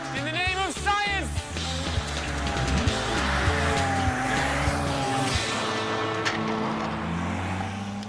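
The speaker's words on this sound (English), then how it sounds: "locks the steering wheel in place and opens the throttle" A car engine revs at full throttle as it drives toward a wall, rising and straining with squeal-like whines while someone talks over it.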